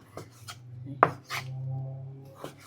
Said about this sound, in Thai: เราก็หั่นไปแบบนี้นะคะ